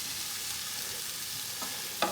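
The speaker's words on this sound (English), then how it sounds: "Let's put our onions into the oil." Finely chopped onions hitting hot oil for pilau rice, giving a steady, dense sizzle throughout, with a short clatter of stirring near the end.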